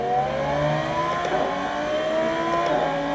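Racing simulator car at a motor show, run at full throttle down a straight: a continuous engine roar whose tones climb steadily in pitch, fairly loud and close, with no talking over it.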